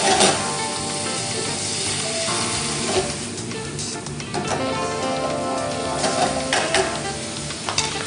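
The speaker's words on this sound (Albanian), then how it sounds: "Do i kapërdisim, derisa të zbuten pak perimet dhe mishi të marrë një skuqje" Vegetables and meat sizzle steadily in a pan, seasoned with salt and pepper, with sharp stirring clatters and scrapes breaking through a dense, continuous frying hiss.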